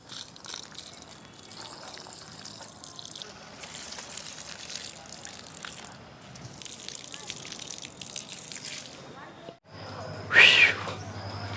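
Water is poured onto newly planted saplings, bel, karanj and lemon trees, on open ground, a soft, uneven splashing and trickling interrupted by a brief louder burst near the end.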